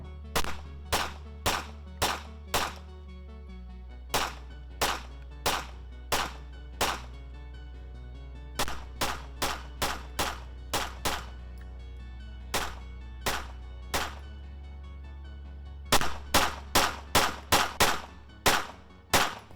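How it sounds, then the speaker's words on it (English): Glock 43X pistol with a regular barrel firing in quick strings of sharp, loud shots, separated by short pauses and ending in a faster burst, with a steady low hum underneath and no voices. "Let's get a couple mags through this with a regular barrel"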